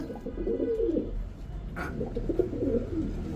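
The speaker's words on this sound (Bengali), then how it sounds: "জোড়া জোড়া বাচ্চা তোলে পাকিস্তানি টেডি কবুতর" Pakistani teddy pigeons coo in soft, low, rolling murmurs close by, pausing briefly before cooing again.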